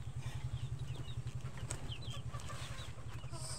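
Hens cluck softly amid a steady low mechanical hum, scattered chirps and clucks over a constant background.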